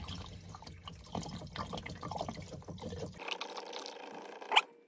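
Water trickles and drips out of a short run of pipe into a tub during a shower pump installation, a faint, uneven gurgle that thins out partway through, ending with one brief sharper splash.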